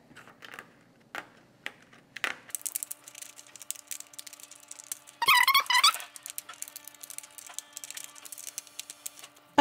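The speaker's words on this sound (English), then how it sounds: "I stick my scissors right in the middle of that pinch, and then I start to cut" Scissors snipping through a paper stencil, close and quiet, a few crisp irregular clicks and cuts separated by pauses, with a brief louder scraping rustle midway.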